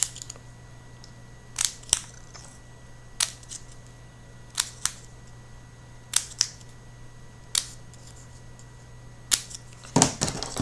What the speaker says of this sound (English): Just snip it between each petal.